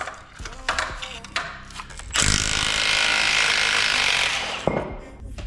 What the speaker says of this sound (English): We're going to get in here with a 14 mil. We're going to pull our caliper off.